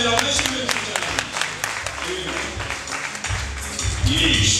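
Guests clapping at a Rwandan wedding celebration, a brisk, uneven patter of hand claps mixed with voices, music and crowd chatter throughout.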